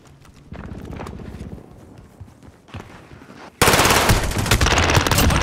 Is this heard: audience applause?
no